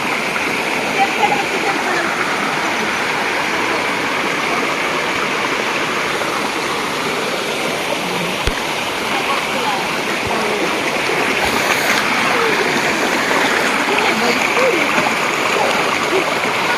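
A steady, loud rush of falling water with continuous splashing and churning, a waterfall pouring into a flowing stream close by.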